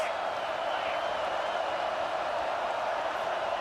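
Steady stadium crowd noise from a college football video game, Penn State versus Michigan, forms a continuous dense roar that holds at an even level throughout without breaks.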